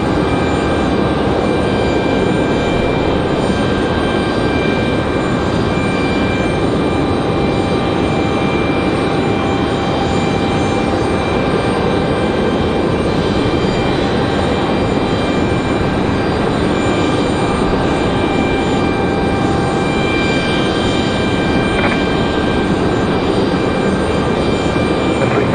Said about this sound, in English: our next arrival is going to be American Airlines 533 coming in from Chicago O'Hare